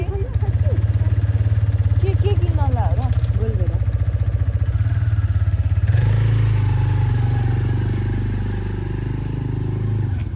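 A motorbike rides on after a U-turn, its engine droning steadily and close throughout and shifting to a rougher, lower note partway through, with a voice briefly heard over it.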